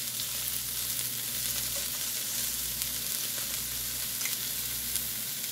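Three cloves of garlic sizzling in a hot pan, a steady bright hiss of frying with faint crackles throughout, alone without talking.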